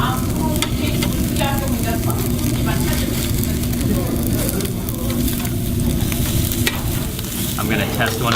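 Marbled Jangsu beef sizzles and spits on a charcoal grill at a Korean barbecue, fat flaring, a constant loud crackling fry with scattered pops and a steady low hum throughout.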